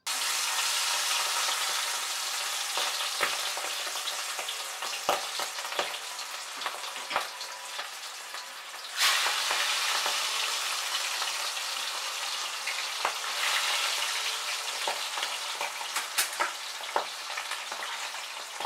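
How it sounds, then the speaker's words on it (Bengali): Pieces of boal fish frying in hot oil in a wok, a steady bright sizzle with scattered sharp pops and crackles, the hiss swelling louder partway through and continuing without any voices. "এবার আমি এক এক করে"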